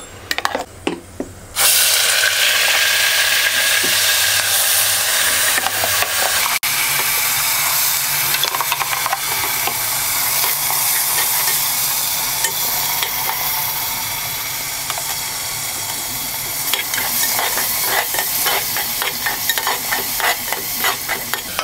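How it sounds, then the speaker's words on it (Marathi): Ground masala paste frying in a pan after whole spices have crackled, with a loud continuous sizzle and repeated scraping stirs close up, with no voices. "मसाला चांगला लाल होईपर्यंत आपल्याला हा परतून घ्यायचा आहे."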